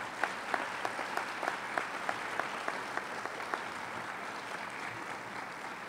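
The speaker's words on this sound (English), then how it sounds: "give them a huge round of applause" Audience applause for graduating scholars at a 2017 scholars' graduation ceremony: steady, fairly loud clapping from a large crowd fills the room, with a few sharper individual claps standing out in a loose rhythm.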